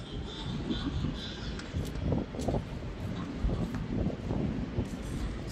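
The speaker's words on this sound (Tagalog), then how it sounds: "Malakas yung hangin." Strong wind gusting across an outdoor spot with handmade goods on display in the UAE, a steady broad roar buffeting the microphone for the whole stretch, with faint rustling on top.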